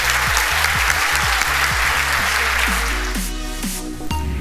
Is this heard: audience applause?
yes